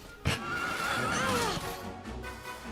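A horse in the Dragon Quest video game lets out a loud, drawn-out whinny after a sharp hoof clop, the neigh wavering down in pitch before fading.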